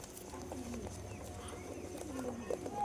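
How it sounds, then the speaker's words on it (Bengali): Pigeons coo at a seller's loft in Dankuni, including a matras-breed bird: soft, low cooing phrases sit close under steady background noise, with a few brief chirps near the end. "এই একটা পায়রা আছে ম্যাট্রাস পায়রা"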